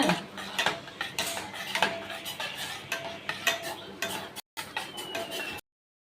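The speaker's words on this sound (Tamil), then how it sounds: "சேமியா போட்டுக்கோம் கிண்டி விட்டுக்கோங்க" Vermicelli being stirred in a cooking pot while preparing a sweet drink, giving a steady run of scraping, clinking utensil taps against the metal with a short cut near the end.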